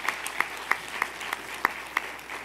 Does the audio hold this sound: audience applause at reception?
yes